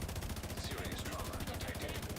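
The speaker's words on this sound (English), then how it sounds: "that's a minigun, not a person" Minigun in the video game The Division 2 firing a continuous, very rapid stream of shots, loud and unbroken throughout, with a voice speaking over it.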